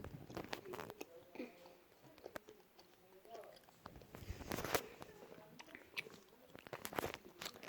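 Someone eats rice cake dipped in honey, with soft, sticky bites and moist chewing that come in irregular bursts. Quiet talk is heard in between the bites.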